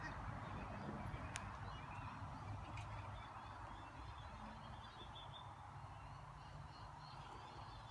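Wild birds, parrots among them, calling at a feeding spot: a steady mix of honking, squawking calls with a few sharp chirps, fairly close and continuous without any talk.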